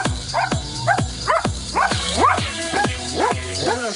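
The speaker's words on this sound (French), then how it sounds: "des chiens qui aboient au rythme de la musique" AI-generated dogs barking in a regular musical rhythm, about eight sharp, evenly spaced yips and barks with pitch swoops, close and fairly loud over a low musical backing.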